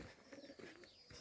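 Pigeons coo softly in a pen shared with hens on a small farm, a brief, faint, low burbling call close by.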